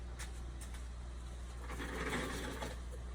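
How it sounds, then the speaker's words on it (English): A sewing machine stitches a small handmade junk journal, a quiet steady mechanical whir with a low hum running throughout, rising a little in the middle, with no talking. "If my sewing machine were closer, I'll let you see what I'm doing."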